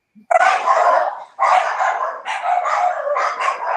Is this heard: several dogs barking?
yes